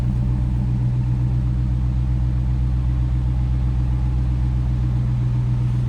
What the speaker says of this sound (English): Nice rumble coming out of that Hemi.